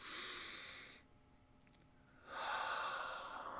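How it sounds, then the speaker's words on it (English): Deep breaths during a guided meditation, with two long airy inhalations separated by a quiet pause, close to the microphone and soft, with no speech. "Take some deep breaths in. Feel the air filling your chest and diaphragm as you breathe in."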